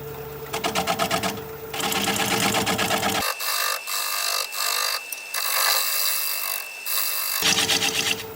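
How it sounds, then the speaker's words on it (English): A live-edge rectangular wooden bowl is sanded on a wood lathe, giving a continuous rough rubbing and whirring hum close by. The tone shifts between brief interruptions as the sanding pressure changes. "Boy, it's a lot of area to sand down"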